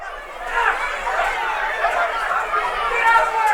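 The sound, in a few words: wrestling brawl spilling through the arena crowd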